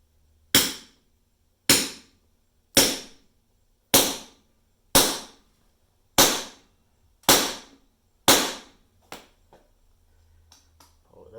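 Eight sharp, evenly spaced metallic hammer blows strike a hammer-style crimper, pressing a 0 gauge lug onto heavy cable. A couple of lighter taps and clinks follow.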